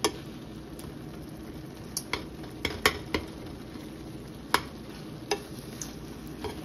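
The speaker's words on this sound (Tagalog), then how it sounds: "Lagyan ko lang po ng sibuyas at saka kamatis at saka paminta" Onion, tomato and pepper sautéing in a pan, a low steady sizzle broken by sharp scrapes and clinks of a utensil stirring against the pan, close by with no talking.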